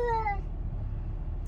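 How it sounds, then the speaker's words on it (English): A cat being driven to the vet lets out one strained, drawn-out meow inside a car, heard over the low road rumble of a rainy highway. "I have a client cat in the car."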